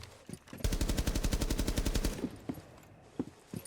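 A rapid burst of automatic gunfire in Rainbow Six Siege, shot through a wall, about twenty evenly spaced loud close shots in under two seconds, followed by scattered footsteps and small impacts.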